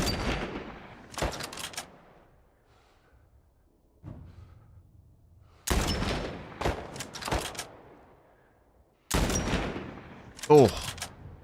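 Bursts of gunfire in The Last of Us Part I, a few loud clusters of shots separated by quieter gaps, with a low rumble between volleys.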